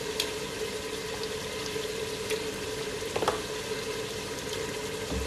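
Mutton sizzling loudly in a pan as yogurt is added for daal gosht, a dense continuous frying hiss with a few brief stirring clatters, close and without talk.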